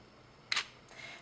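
A camera shutter fires with a sharp opening click, holds open for a one-second exposure, then closes with a softer second click, close and isolated in a quiet room.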